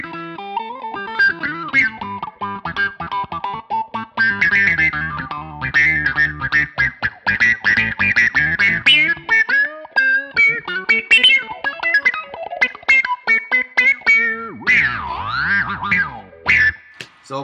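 Bass guitar played through a Digitech Bass Synth Wah pedal with a sub-octave setting, giving distorted, synth-like notes with a deep octave-down layer and sweeping wah filter, plucked in uneven phrases up close, no talking.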